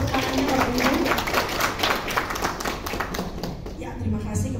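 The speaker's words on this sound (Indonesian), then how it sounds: "Boleh tepuk tangannya Bapak Ibu." An audience at a training event for rural bank staff claps steadily for several seconds, a dense patter of hands that thins toward the end, with faint voices underneath.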